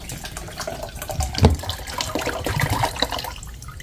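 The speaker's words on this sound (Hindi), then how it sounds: "अभी इसमें सिर्फ 4 कोकोनट का पानी डाला है और आधा जग भर गया है।" Coconut water poured into a half-full jug, an uneven splashing and gurgling stream with a brief louder gush near the middle, close and alone.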